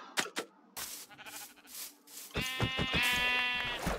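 A sheep in a Minecraft Bedrock survival game running an SCP mod gives a sustained, loud, close bleat after a few brief knocks and shuffles.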